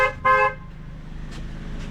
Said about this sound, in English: And then it beeped twice, letting you know you're all done.